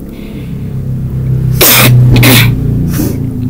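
Three harsh, explosive coughs close to the microphone, the first two back to back and a shorter one after a brief pause, over a low background hum.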